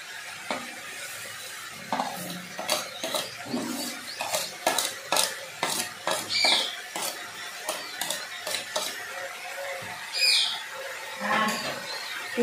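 A spoon stirs sugar into fried guava pickle in a pan, making quiet, intermittent scrapes and clinks against the metal in an irregular rhythm, with no talking.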